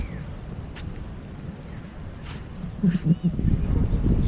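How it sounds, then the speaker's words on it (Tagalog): Big storm waves crash on a beach during a typhoon, with steady low rumble and wind buffeting the microphone, growing louder and rougher toward the end; a voice speaks briefly. "Nalaki pa rin ang mga alon."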